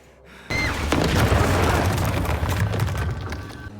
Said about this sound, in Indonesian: Dan karena ledakan tersebut